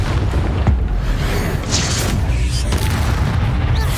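Expulso explosion spell in Hogwarts Legacy, a deep rumbling blast with a sustained low roar under busy game effects, loud and continuous.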